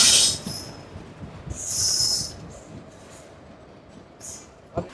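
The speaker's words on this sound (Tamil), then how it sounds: "ட்ரெயின் வந்தாச்சு" A train pulls into a station with bursts of high metallic wheel squeal and hiss over a low rolling rumble, loud and close, easing off before a sharp clank near the end.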